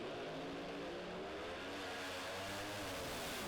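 Pro Mod drag racing cars at the World Series of Pro Mod in Bradenton, Florida, accelerating with a loud, harsh, continuous engine roar that rises in pitch over a few seconds.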